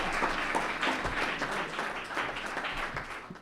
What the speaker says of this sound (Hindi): जोरदार तालियों के साथ स्वागत कीजिएगा कुशल के